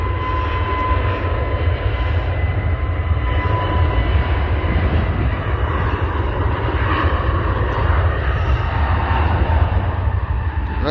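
Fixed-wing airliner taking off on a cold 2°C day at the airport, a loud steady engine roar filling the whole stretch with broad rumbling power and a faint whine, no talk.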